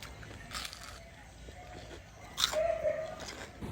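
Someone bites into crunchy chicken nuggets up close, producing a few brief crunches and chewing sounds, with a short voice heard partway through.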